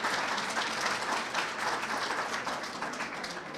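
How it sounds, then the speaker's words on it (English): Steady applause from an audience at a community fair honoring a state representative, a dense continuous patter of many hands clapping that holds at an even level throughout. "Can we get a round of applause for Representative Thomas for putting this great fair together?"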